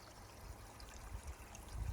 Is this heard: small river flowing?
yes